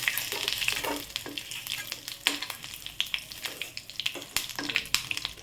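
Bombil (Bombay duck) fish frying in hot oil in a home kitchen, a steady close sizzle with crackling spatters and occasional stirring clicks, no voices.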